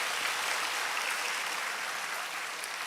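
A church congregation claps after a choir's praise song during worship, a continuous wash of applause that stays even and fairly loud throughout.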